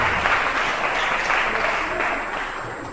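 Audience applauding at a 2018 bodybuilding championship, dense steady clapping from a crowd for three seconds that fades slightly toward the end.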